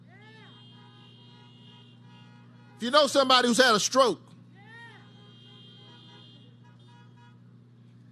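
Car horns honk in a burst of several overlapping blasts at a drive-in rally, loud for about a second, while someone speaks over an amplified system before and after.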